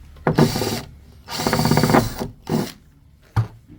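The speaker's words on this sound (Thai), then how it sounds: "เรื่องเจาะเราถนัดทะลุไปแล้ว" A power drill boring through material during electrical wiring work in a Bangkok village community: several loud, close bursts of whirring with short pauses between them, and a brief sharp knock near the end.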